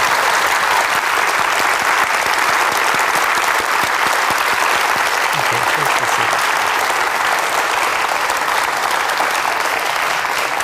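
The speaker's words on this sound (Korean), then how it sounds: "다시 한번 박수 보내드리겠습니다." A lecture audience in Korea applauding a speaker, sustained dense clapping filling the hall at a steady loud level throughout.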